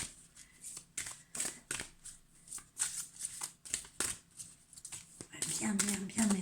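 Oracle cards are shuffled by hand in a series of brisk riffling bursts, papery flicks repeating through the whole stretch, with a voice speaking quietly over them.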